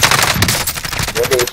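Rapid gunfire from a video game firefight, sniper shots among dense bursts of automatic fire, loud and close, with broadband cracks repeating in quick succession throughout.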